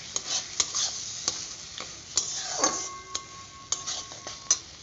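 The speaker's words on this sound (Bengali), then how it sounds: "তারপর দেখো বন্ধুরা মশলাটা তো কষছে ভালো মতো" Spice paste frying and being stirred in a pan for a Bengali fish dish, with steady sizzling and repeated sharp scrapes and clinks of a spatula against metal, close and clear with no talk.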